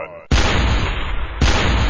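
Railgun shots in a Metal Slug-style run-and-gun game: two loud, abrupt blasts with a harsh broadband roar, the second following about a second after the first, preceded by a brief quieter sound.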